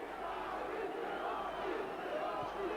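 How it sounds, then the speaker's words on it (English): Boxing crowd at a fight in El Paso chanting a fighter's name, a steady roar of many voices filling the arena throughout, with no clear individual words standing out. "You hear the chant from the crowd here in El Paso,"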